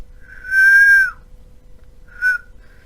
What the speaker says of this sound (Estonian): Ma saan puhkuda vilinal